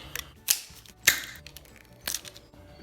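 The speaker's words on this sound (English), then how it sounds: "We'll strip the wire back." Close, crisp clicks and snaps from stripping insulation off 10 gauge solid core wire with a hand stripper, three or four sharp bursts spaced irregularly over a quiet background.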